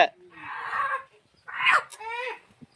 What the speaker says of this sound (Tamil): பிடிச்சிட்டியாப்பா கோழிய